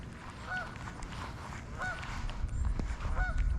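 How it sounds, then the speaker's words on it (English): A goose honks repeatedly in short paired calls at a steady pace, moderately distant, over a low outdoor rumble. "And that goose needs to be quiet, man. He's just barking his head off over there."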